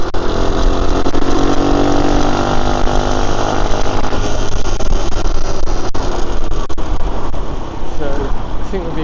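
A monkey bike's small engine chugs loudly up close with wind noise, revs held up to keep it from stalling, while someone talks over the steady engine sound.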